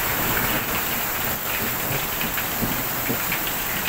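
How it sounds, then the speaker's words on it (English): Hail pounds a roof during an intense hailstorm, a loud, dense and continuous rattling roar of countless impacts with no pauses, heard from indoors. "All the hail hitting the roof."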